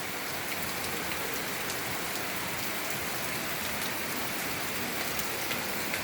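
Rain pouring down on a rainy day, a dense, even hiss of drops striking surfaces, steady and close throughout with no voices.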